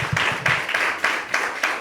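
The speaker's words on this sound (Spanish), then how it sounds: "démosle un aplauso al Señor" Church congregation applauding together after a sermon, a steady wash of clapping with rhythmic surges, moderately loud and close, with no talk over it.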